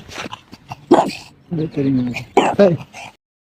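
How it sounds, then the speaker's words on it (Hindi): A dog barking and yelping in several short, loud bursts close by, mixed with someone talking. "यहाँ पर एक कुत्ता आ गया, चिल्लाने लग गया"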